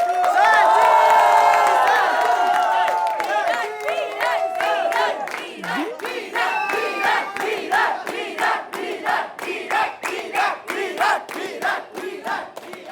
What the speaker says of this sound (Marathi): विराट विराट विराट असा सगळा आवाज, असा सगळा माहोल दिसतोय